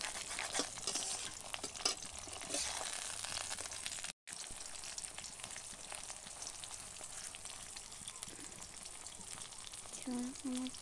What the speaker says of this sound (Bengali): এবার আমার জন্য বানাবো পোচ